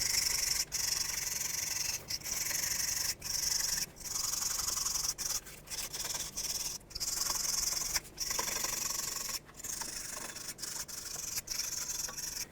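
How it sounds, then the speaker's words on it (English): A wire brush scrubs rust off the rear brake hub of a 2001-07 Toyota Sequoia, making steady, harsh, close scraping strokes in repeated bursts with brief pauses between. "with the wire brush, you want to clean up this hub area, make sure it's nice and flat"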